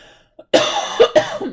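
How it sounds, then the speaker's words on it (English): A few harsh, raspy coughs burst out close to the microphone, two or three in quick succession after a brief silence. "Still got that cough."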